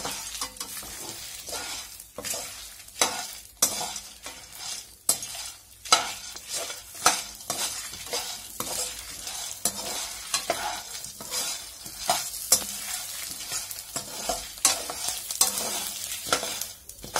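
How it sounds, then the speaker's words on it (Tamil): Curry leaves fry in hot oil in a pan, a steady sizzle broken by repeated scraping strokes of a spoon as they are stirred. "இப்ப இத நம்ம இத நல்லா ஃப்ரை பண்ணணும், அதாவது வதக்கி விட போறோம்."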